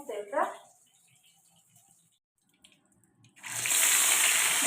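Fish are washed under running water in a home kitchen; a voice speaks briefly first, then after a quiet stretch the water gushes loudly and steadily into the sink, close by.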